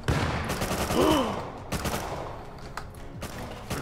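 A grenade blast in the survival game Rust hits hard at the start and rumbles into a loud, noisy tail, followed by a few sharper cracks of gunfire-like impacts.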